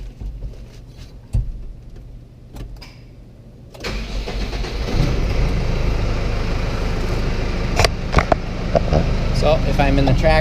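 An Oliver Model 18 tractor engine cranks and catches, going from quiet rumbles and clunks into a steady, loud running drone close by that persists to the end, with a few sharp knocks over it.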